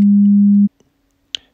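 A steady, pure electronic quarter tone from a practice app holds for about two-thirds of a second, then cuts off, followed by a faint tick and a brief bright click.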